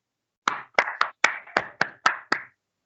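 A small audience claps after a devotional bhajan at a spiritual meditation gathering: eight crisp, evenly spaced claps, sharp and close, each decaying quickly, with a final clap starting at the end and no talking.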